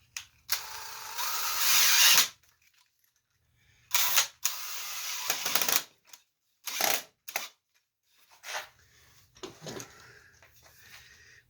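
A power drill drives screws into pre-drilled holes in an oak corner brace of a draw leaf table, heard as several loud whirring bursts of a few seconds each, separated by pauses and a few shorter spurts.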